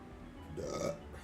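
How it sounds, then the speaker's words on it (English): A short, low burp rises out of quiet room tone, lasting roughly half a second and heard alone at moderate loudness. "That was a good burp though."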